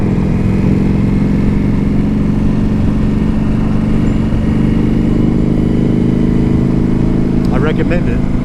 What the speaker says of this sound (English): This bike sounds so awesome now.